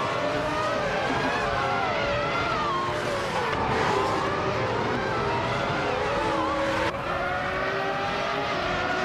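Engines of F1 1995 race cars whine steadily on track, several high-pitched engines overlapping and rising and falling in pitch as the pack runs close together, loud throughout.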